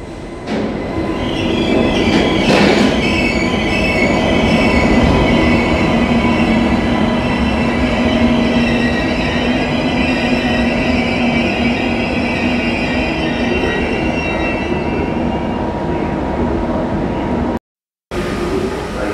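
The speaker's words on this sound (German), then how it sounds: "Baureihe 401, also ein ICE1 mit dem Buckligen." Deutsche Bahn ICE1 Class 401 high-speed train in Braunschweig main station at night, a loud steady rolling rumble with faint wheel squeal running throughout, close by, with a brief dropout near the end.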